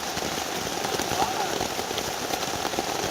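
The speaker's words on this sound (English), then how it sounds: "this is just relaxing with the rain in the forest, in my sleeping bag" Steady rain patters on a tent in a forest, a dense, even hiss of drops close by with no pauses throughout.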